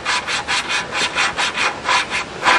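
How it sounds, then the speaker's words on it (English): A lawnmower engine valve being lapped into its seat with gritty grinding compound: a close, loud, rhythmic scraping rub repeating about four times a second, with no talk. "that's how you lap and seat a valve with full compression"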